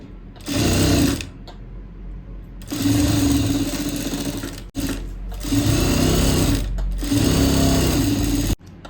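Sewing machine stitching blouse fabric, running in several loud sustained bursts of steady mechanical whirring separated by short pauses, with no voices.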